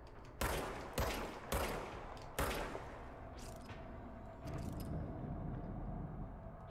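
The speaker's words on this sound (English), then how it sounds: "I just shoot them anywhere." Gunfire from a weapon in the video game Control: four sharp, loud shots in an uneven series, each followed by a short rumbling tail, then a few quieter bursts and a low sustained rumble.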